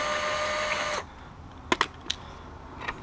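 A power driver whirs steadily for about a second as it backs out the screws of a belt guard on a Razor E100 electric scooter, followed by a few light, close metallic clicks and taps.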